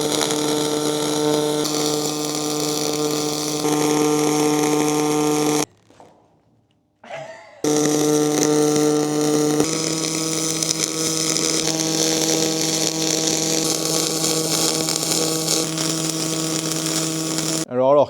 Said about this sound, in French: Je vais commencer à souder sur la 6 mm.